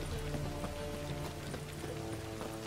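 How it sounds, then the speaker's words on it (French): Horse hooves clip-clopping in The Witcher 3 video game, a steady stream of hoofbeats under game music and ambience, with no clear talk. "Mon cheval est venu me chercher."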